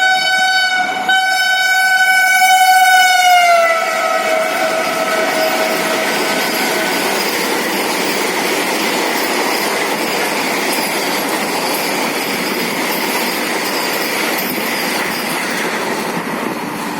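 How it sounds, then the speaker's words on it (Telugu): A passing train, announced as the 20702 Tirupati–Secunderabad Vande Bharat Express, sounds a sustained, loud horn blast for several seconds. A steady rumble and clatter of rail cars follows and holds to the end. "Train number 20702 Tirupati Secunderabad Vande Bharat Express via Gunturu Nalgonda."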